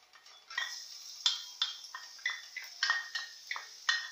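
Garlic dropped into a pan of hot oil for a basic sauté in a chicken empadinha recipe, with soft sizzling and a series of light utensil taps and stirring clinks, quiet and close.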